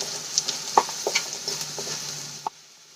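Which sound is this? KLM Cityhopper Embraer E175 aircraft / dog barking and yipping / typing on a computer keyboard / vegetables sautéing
vegetables sautéing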